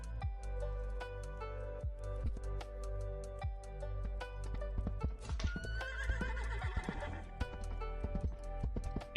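Video game horse in the Southern Levant, neighing and whinnying over repeated clip-clop hoof steps, close and fairly loud with no talking.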